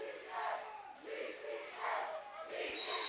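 A full, electric arena crowd chants DCM in rhythmic surges at a basketball-style game between Diamond City and Attack Pack, with the loud chant repeating several times in a steady cadence.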